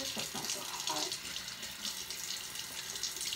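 Cold water runs steadily from a bathroom tap into a sink, a continuous close hiss and splash with no talking.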